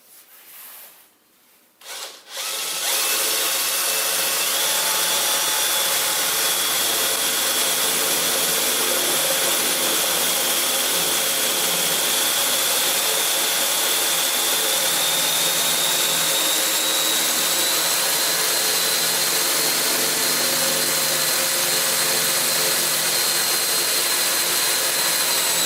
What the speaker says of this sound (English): So I'm going to drill the first one, then move the indexing position round another 3, and then do another